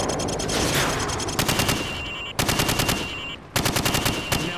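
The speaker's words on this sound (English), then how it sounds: "Now shoot at the targets while firing from the hip." Rifle fired from the hip at targets in Call of Duty 4: loud, rapid automatic bursts with sharp cracks, broken by brief pauses between three or four strings of fire.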